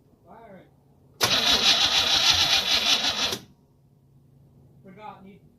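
An engine cranks and catches in one loud burst of about two seconds, then cuts out, with brief talk before and after it.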